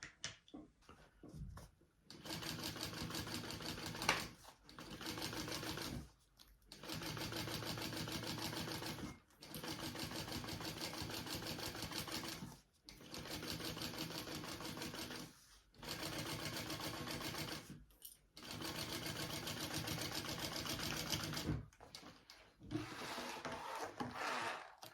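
A sewing machine stitches along the bottom of a handmade bag in steady whirring runs of several seconds each, separated by short pauses, close and alone without talk.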